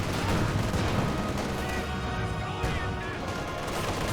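Dense, continuous battle noise from a Company of Heroes 2 match: a steady roar of gunfire, crashes and explosions, with a T-70 tank being hit by high explosive and flamethrower fire, loud and unbroken throughout.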